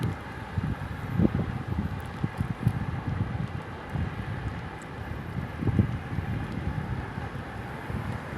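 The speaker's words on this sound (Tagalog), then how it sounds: "Malamig ang simoy ng hangin." Cool outdoor breeze blowing steadily into the microphone, a continuous broadband rush with low gusty rumbles and buffeting that swells and eases over several seconds, with no speech.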